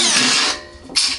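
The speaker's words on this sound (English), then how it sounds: "I've got a 5/16 inch drill ready to put these on" A 5/16 inch power drill whirs briefly while tightening a bolt on a wheel kit for a rack, a loud close burst that stops and then starts again.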